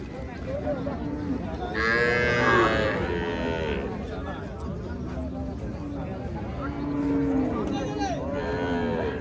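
Cows moo loudly and repeatedly at a busy cattle market, long drawn-out calls overlapping close by while people talk in the background.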